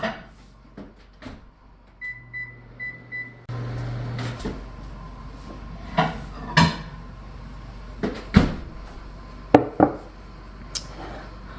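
A microwave beeps, then its door clunks open and shut with several sharp knocks and rattles over a steady low hum.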